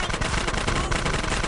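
Rapid continuous gunfire in GTA San Andreas, a dense burst of repeated shots running unbroken and loud for the whole short stretch.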